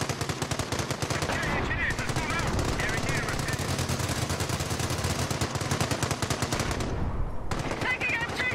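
Sustained machine-gun fire during a World War II battle in Company of Heroes, rapid continuous bursts crackling loudly for several seconds with a brief pause near the end, game voices faintly mixed underneath.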